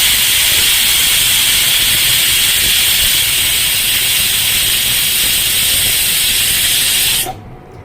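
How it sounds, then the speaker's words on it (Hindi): A pressure cooker whistles with a loud, steady hiss of steam while radish cooks on a gas stove, holding for about seven seconds before cutting off abruptly. "और अब हम इसमें ढक्कन लगा के सीटी लगवाएंगे"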